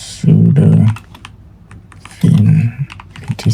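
Terminal command typed on a computer keyboard, heard as two short bursts of close, rapid key clicks separated by a quieter pause with scattered single taps.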